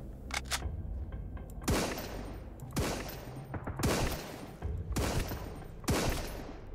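Gunfire from an enemy in the video game Sunkenland cracks out as five sharp, separate shots at roughly one-second intervals, loud against a steady game background with no talk.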